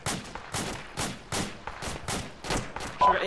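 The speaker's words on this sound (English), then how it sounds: "AK fire close." AK rifle fire in the video game Arma 2, a rapid series of about eight loud, evenly spaced shots with echoing tails.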